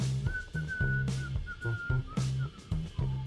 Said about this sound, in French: il sifflotait un air joyeux.